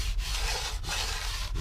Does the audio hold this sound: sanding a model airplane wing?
yes